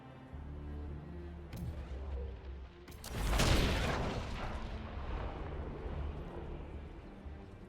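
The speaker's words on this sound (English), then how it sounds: "Explosion." Game explosion in Dragon Age Inquisition: a sudden loud broadband blast about three seconds in, swelling and rumbling off over several seconds above steady low game ambience and music.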